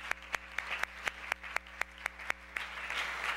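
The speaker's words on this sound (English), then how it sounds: "Let's give them a round of applause." An audience at a wrap-up session gives a round of applause, a thin, fairly distant scatter of hand claps with a few sharp, regularly spaced claps standing out, swelling slightly toward the end.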